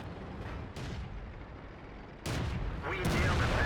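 A tank gun firing in World of Tanks, a British tier 6 tank such as the Cromwell or Black Prince, heard as loud booming shots over a constant rumbling engine and battle din, with a sharp blast near the end.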